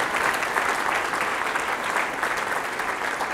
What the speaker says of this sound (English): I would like, first of all, for you to give all three of them a big round of applause for their service